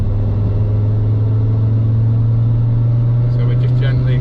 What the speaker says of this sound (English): So we're just gently accelerating up the slip road now